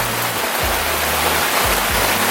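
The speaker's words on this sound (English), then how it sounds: "Oh gosh, it is literally pouring." Heavy pouring rain comes down as a loud, dense, constant hiss, with a few low thumps underneath and no voices.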